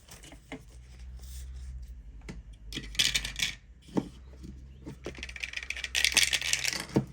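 A small eight-sided die and other dice clatter and tumble through a dice tower in several short, bright rattling bursts, close and moderately loud, with quiet pauses between rolls.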